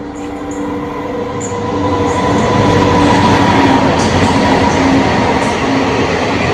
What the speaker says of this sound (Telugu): డెమో ప్యాసింజర్ ఎంత ఫాస్ట్ వెళ్తుందో చూడండి ఒకసారి